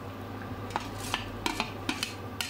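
Potatoes and carrots going into a soup pot on the stove, heard as a handful of sharp clinks and knocks against the pot rim spread over a couple of seconds, with a steady low hum underneath and no talking.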